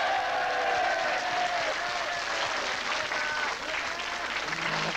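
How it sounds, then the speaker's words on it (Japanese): Sustained audience applause fills the hall after a charity mud-wrestling bout featuring Manami Toyota, dense steady clapping at close range for the full stretch with faint voices mixed underneath. "もう一度拍手をどうぞ"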